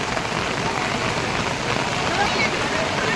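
Heavy rain pours in a dense, steady hiss at the Ganges bathing ghats at Har Ki Pauri, Haridwar, loud and continuous with no pauses.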